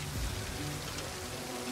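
Rain falling in the video game Total War: Pharaoh, a soft, steady patter and hiss of rainfall, quiet and even across the moment.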